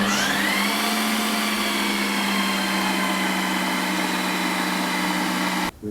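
A Ninja Creami machine processing a protein ice cream mix of blueberries, egg whites, almond milk and whey gives a loud, steady high-pitched motor whine that holds throughout and cuts off abruptly at the end.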